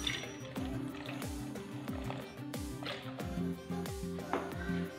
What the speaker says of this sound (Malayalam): ഇനി ചൈന ഗ്രാസ് മെൽറ്റാക്കാനുള്ള വെള്ളം ഒഴിച്ച് കൊടുക്കാം